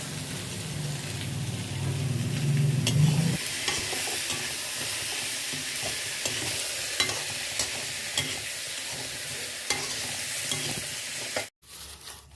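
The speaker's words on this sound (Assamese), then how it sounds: "এইফালে মায়ে চব্জি ভাজি আছে" Vegetables frying in a pan while cooking outdoors in a field, a steady broadband sizzle with stirring clatter running throughout, fairly close, with a low rumble early on and a brief cut near the end.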